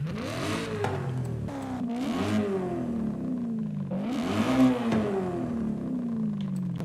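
A modified car exhaust revving in Forza Horizon 5, with repeated throttle blips rising and falling in pitch over a steady engine drone, loud and close, with no talking.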